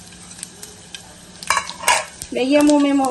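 Asafoetida dropped into hot oil for tempering: a few light clinks and taps, then a sudden burst of close sizzling that keeps frying loudly to the end.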